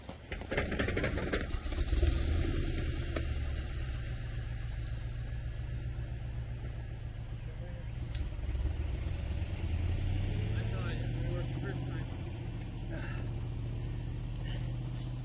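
A Corvette engine runs steadily after a push start with a dead battery, a continuous mid-pitched rumble that stays fairly loud for the whole stretch, with outdoor noise and a few voices in the background.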